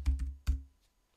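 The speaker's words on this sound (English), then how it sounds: "I can press all sorts of keys on the keyboard and nothing happens" A few computer keyboard keys are pressed: three quick, close clicks in a short burst, then quiet, with no talking.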